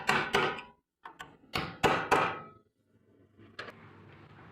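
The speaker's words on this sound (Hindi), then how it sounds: "हम हल्का इस पर हल्की चोट मारेंगे" Light hammer blows tap a timing chain plate into place on a Hero Splendor motorcycle engine: a few close, sharp knocks in small clusters with short gaps, then a fainter tap near the end.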